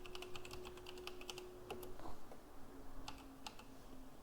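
Keys are tapped on a computer keyboard while entering a Polkadot node command, giving quiet, irregular clicks in short bursts over a faint steady hum.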